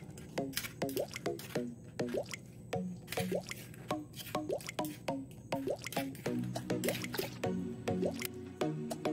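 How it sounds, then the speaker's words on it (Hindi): Tomato pulp is strained to draw out its juice, giving a close, rhythmic series of wet squishes and dripping plops, repeated roughly every second throughout. "मुझे टोमेटो जूस ज़्यादा पसंद है, तो मैं इसको थोड़ा सा स्ट्रेन कर लूँगी और जूस निकाल लूँगी।"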